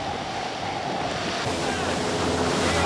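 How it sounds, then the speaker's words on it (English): Water rushing around the rudder of a racing yacht during the Tooheys' International Cup, a continuous loud hiss of churning wake and spray mixed with wind, steady and close throughout. "You can see the water rushing around the rudder."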